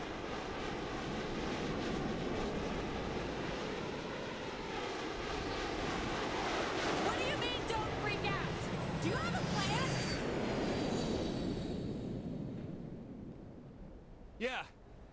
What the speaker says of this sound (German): I think that plane is gonna try to ram us